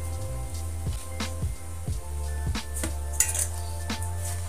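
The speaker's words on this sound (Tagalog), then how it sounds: "Haluin po natin ito." Spoon clinking and scraping in a bowl while fresh grated coconut is stirred with sugar, a series of close, uneven metallic taps over a faint background hum.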